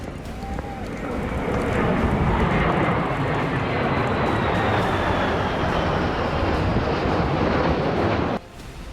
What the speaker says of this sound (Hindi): आसमान में उड़ते जिन 6 लड़ाकू विमानों को आप देख रहे हैं वो अमेरिकी वायुसेना के सबसे घातक बॉम्बर B-1B लांसर हैं